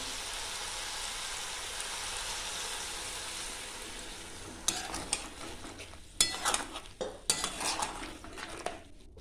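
A frying hiss fills the first half, then a spoon scrapes and clanks against a pan in several bursts while kochur loti (taro stolon) and prawn curry are stirred together.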